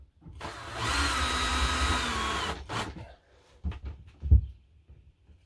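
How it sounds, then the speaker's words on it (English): A power drill whirs steadily for a few seconds, driving screws through a shelf into its bracket on a plasterboard wall. A few short knocks and clicks follow, close by, with no talk. "I'm going to put in the screws that hold the shelf on to the bracket"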